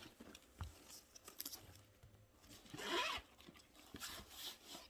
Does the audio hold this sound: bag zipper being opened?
yes